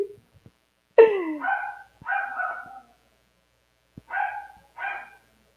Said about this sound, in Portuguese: minhas cachorras voltaram a dar palpite